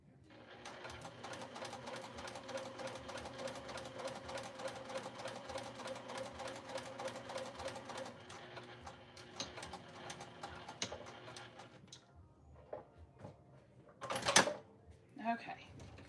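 Rapid, steady stitching of a home sewing machine runs for about eight seconds, then slows into scattered clicks and short bursts, ending with a sharp mechanical snip near the end from the thread cutter, with a voice speaking faintly over parts.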